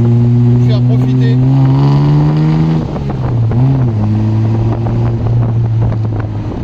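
Austin Healey 3000 BT7 accelerating on an expressway, its engine note climbing in pitch, dipping at a gear change, then rising again, with heavy wind buffeting throughout.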